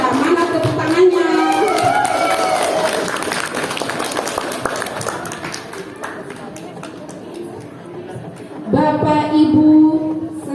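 An audience claps steadily through a Catholic parish women's fellowship gathering at St. Petrus, a busy patter of hands that continues under a speaker's voice, easing midway before voices rise loudly again near the end.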